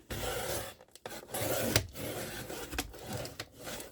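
Trimmers rasp and grind through a piece of material in a series of close, rough scraping strokes with short pauses between them, and no one speaks.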